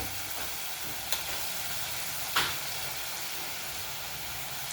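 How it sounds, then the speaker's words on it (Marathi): Masala for pav bhaji sautéing on a low flame in a pressure cooker gives a steady, soft sizzling hiss, broken by two brief clicks of a stirring spoon. "पाच ते सात मिनिट छान मंद गॅसवरती आपण हा मसाला परतलेला आहे"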